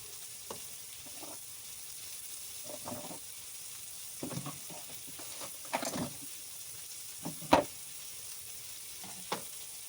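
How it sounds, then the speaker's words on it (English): A fast fry steak, a boneless inside round rouladen, sizzles in a pan while someone camps in a tarp tent below zero. The frying is a faint, steady crackle with scattered louder pops and spits. "Let's make some room for the steak. It's a fast fry steak."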